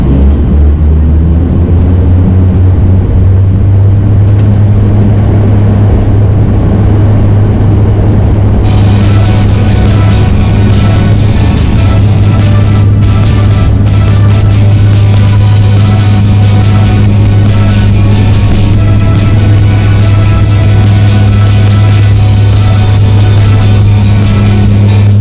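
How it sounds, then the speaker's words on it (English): A Flybe Dash 8 Q400 turboprop's engines hum steadily at first, then surge into a loud, sustained roar as the plane powers up for takeoff, heard from inside the cabin. "the engine it is just like a jet engine, except the propulsion is provided by the propeller rather than the fans you see on bigger jets"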